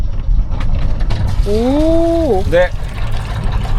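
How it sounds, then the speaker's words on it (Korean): A boat's engine on a boat where a couple lives at sea is started, cranking mechanically and settling into a low, close idle rumble, with a brief voiced exclamation over it. "손님들 저희 배 엔진 소리 기대해주세요."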